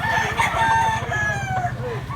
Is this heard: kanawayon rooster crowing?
yes